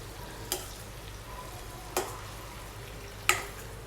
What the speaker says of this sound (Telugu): నెక్స్ట్ నేను పన్నీర్ ఫ్రై చేస్తున్నాను